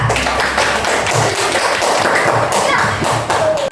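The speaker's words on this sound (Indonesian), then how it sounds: "beri aplaus untuk Aka." Children clapping in a fourth-grade classroom at an Islamic primary school, giving applause for a student group; steady, dense clapping and tapping throughout, loud and close, with some children's voices mixed in.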